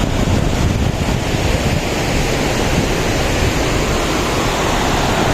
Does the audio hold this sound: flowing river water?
yes